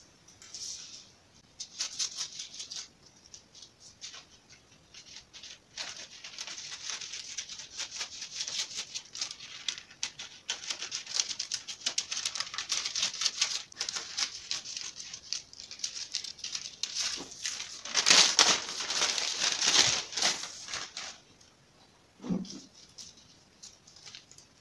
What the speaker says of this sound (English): Next thing you need to do is what, cut out your